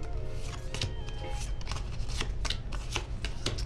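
A Korean Pokemon booster pack being opened and its five bent cards handled, with continuous close rustling, flicking and sliding of card stock at a brisk, even pace.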